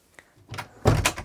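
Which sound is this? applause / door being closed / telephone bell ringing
door being closed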